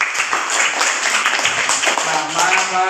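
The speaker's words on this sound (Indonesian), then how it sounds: "Oke, tepuk tangan Nazim." A school class claps together for a classmate, a brief burst of dense applause mixed with voices.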